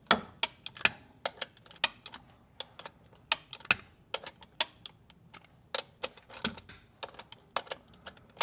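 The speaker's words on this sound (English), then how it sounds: "I'm gonna torque these down to I think 20 foot-pounds" Sharp metallic clicks from a breaker bar set to 20 foot-pounds, torquing bolts on a Porsche 911 lightweight flywheel; around twenty crisp, close ticks in an irregular ratcheting rhythm with no talk.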